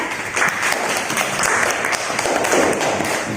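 Students clap together in a classroom during a lesson, a steady dense patter of many hands lasting the whole moment, fairly close and loud.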